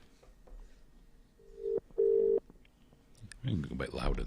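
Telephone call to a British number: two sustained ringback tones sound faintly, then a burst of noise, with quiet voices in the background.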